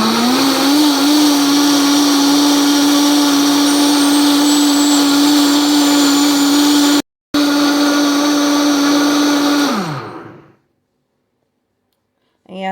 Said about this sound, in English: it will clean the blender really well